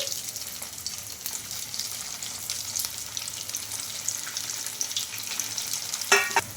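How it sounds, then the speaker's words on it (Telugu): Pieces of a flattened rice (poha) snack sizzle and crackle steadily in hot oil close by, with a brief louder spatter near the end. "ఇంకా నేను ఇక్కడ ఆయిల్ కూడా పెట్టేసుకున్నానండి ఆయిల్ కూడా హీట్ అయింది మనకు ఇంకా ఒక్కొక్కటి అయితే వేసుకుందాం"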